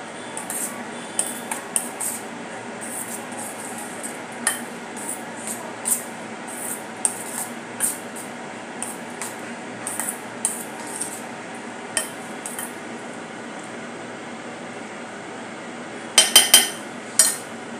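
A spoon stirs cheese stuffing around a bowl, giving off light clinks and scrapes against it with scattered taps, followed near the end by a short cluster of louder knocks.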